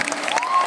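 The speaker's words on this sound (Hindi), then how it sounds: "एक बार जोरदार तालियां।" Brief patter of applause from a training seminar audience, a short busy spatter of clapping under a steady faint tone.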